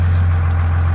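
A mechanic's key ring loaded with many keys for Case and other equipment jangles up close, a continuous metallic rattle over a steady low hum.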